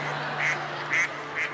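A voice imitates a duck, giving three short nasal quacks evenly spaced over a steady low hum on a talent show stage.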